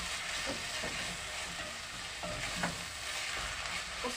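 Carrots and beef fry in a pan while being stirred, with a continuous soft sizzle and scraping stir strokes recurring irregularly at moderate distance, no voices.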